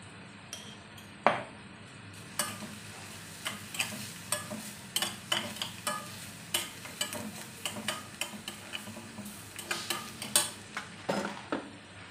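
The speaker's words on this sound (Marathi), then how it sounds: "सांडगे घालून छान परतून घ्यायचं आहे।" Sandge (fried lentil dumplings) being stirred and fried in an onion, turmeric and red chilli masala in a pan, with repeated close spoon scrapes and clinks over a soft steady sizzle.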